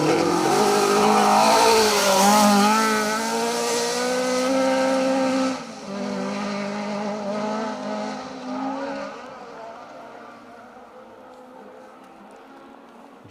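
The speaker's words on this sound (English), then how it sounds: "JWC Financial Solutions sponsored car. It's an RS 1800 running in the D5 class." A Ford RS 1800 rally car in the D5 class on a Welsh Rally Championship stage roars past, engine revving hard with a brief tyre squeal, then fading into the distance.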